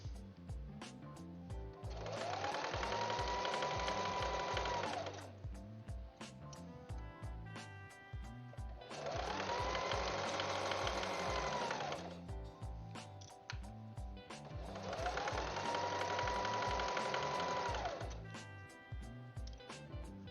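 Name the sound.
sewing machine stitching a quilt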